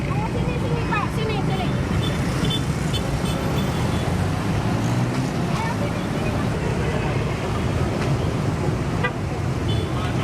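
Busy street traffic in Surabaya while it is being directed: a continuous wash of engine and road noise with scattered faint horn toots and some wind buffeting the microphone.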